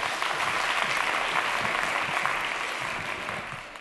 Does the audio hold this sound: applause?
yes